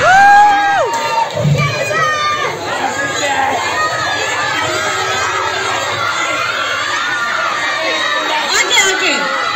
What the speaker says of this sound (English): Please give them a big round of applause, everyone.